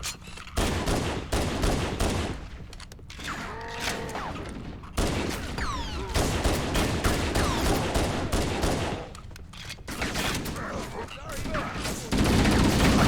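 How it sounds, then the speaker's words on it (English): Rapid assault rifle bursts from the Halo: Combat Evolved Anniversary video game on Legendary difficulty, repeated volleys of gunfire mixed with explosions and battle chatter, loud and continuous throughout. "I love the assault rifle noise in this game."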